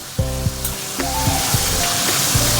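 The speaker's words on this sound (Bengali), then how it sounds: "ডিমগুলো হালকা করে ভেজে নেব।" Eggs fry lightly in a hot pan with a steady, loud, close sizzle and crackle that runs throughout, broken by a few soft knocks.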